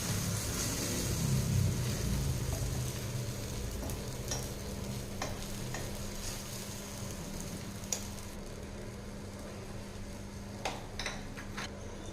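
Egg omelette frying in oil on a griddle stone gives a steady, moderate sizzle, with a few faint ticks and clicks over the top and no talking.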